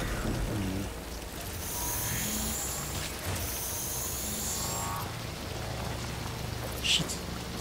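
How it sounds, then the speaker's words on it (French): Rain falls in the video game Death Stranding, a steady, dense hiss of drops on surfaces at moderate level, with faint game sounds underneath. "Ah, il pleut, bordel."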